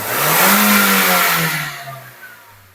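A fuel-injected car engine is revved hard to about 5000 rpm and then released. The loud, close roar holds for a moment, then the revs fall back toward idle.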